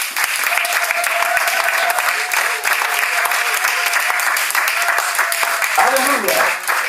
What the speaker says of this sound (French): Acclamons Jésus encore